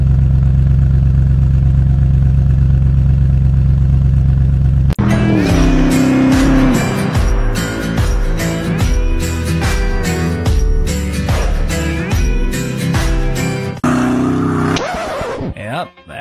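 A Koenigsegg Regera idles with a steady, low, even hum for about five seconds before loud music takes over and buries it.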